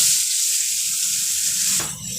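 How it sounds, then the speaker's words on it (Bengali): Cauliflower pieces fry in leftover oil from frying fish, giving a steady close hiss that runs throughout, then dips briefly near the end as the pieces are stirred or moved. "মাছ ভাজার ওই তেলের মধ্যে আমি কপিগুলো ভেজে নেব"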